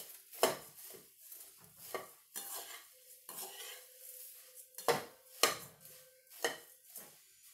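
Puffed rice dry-roasts in a pan, heard as repeated bursts of scraping and rustling stirring with the clink of a utensil against metal, close and quiet, with gaps between strokes.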